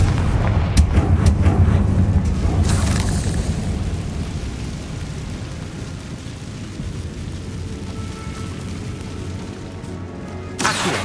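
Bombarda and Confringo spells explode in Hogwarts Legacy, a burst of loud blasts at the start rolling into a long, heavy rumble that slowly fades before another sharp blast near the end.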